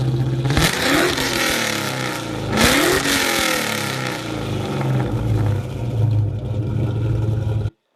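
A 2001 Ford Mustang Bullitt V8 rumbles loudly at close range, blipped twice into sharp revs that sweep up and fall back to a deep, steady idle before cutting off abruptly.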